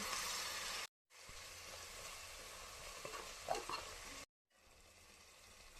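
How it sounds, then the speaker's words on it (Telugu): Yogurt goes into ginger garlic paste frying in oil for egg pulao, giving a soft crackling sizzle with a few stirring clinks, close and quiet, broken by two short silent gaps. "ఇప్పుడు ఇందులో పెరుగు వేసుకోవాలి"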